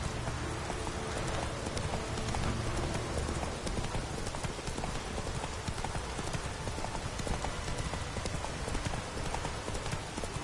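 Roach the horse galloping in The Witcher 3, steady rapid clip-clop of hooves throughout over a faint wet background hiss, with no speech.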